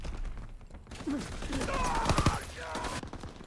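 Gunfire in the Call of Duty WW2 video game, including shotgun blasts: a busy fusillade of shots and mechanical clatter heard at moderate level, with a few sharp, louder bursts in the middle.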